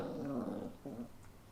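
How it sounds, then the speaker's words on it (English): A dog growls low and rumbling in two drawn-out grumbles with a brief pause between them, faint and close, with no talking over it. "dog's mad at me. I don't know if you can hear that, but he's growling."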